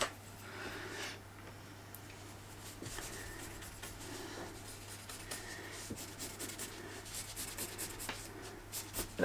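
Pen or chalk rubbing and scratching across fabric while marking a cutting line for a black-and-white striped vest, faint intermittent strokes over a steady low hum.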